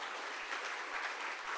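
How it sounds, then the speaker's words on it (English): A conference audience at a Ruby programming talk bursts into steady, dense applause, a brief continuous wash of clapping heard alone without voices. "You should give yourself a round of applause."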